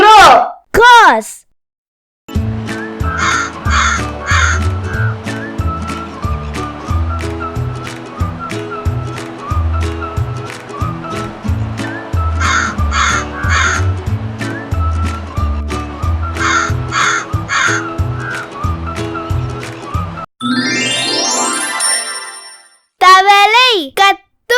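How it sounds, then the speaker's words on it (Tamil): A crow caws loudly and close by, once at the very start and again in a few harsh calls at the end, with cheerful instrumental children's music playing in between. "காகம் கரையும்."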